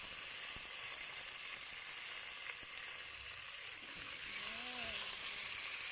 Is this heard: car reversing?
no